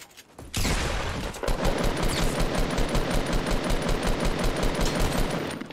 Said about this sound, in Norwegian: Vi traff et veldig fint skudd på henne.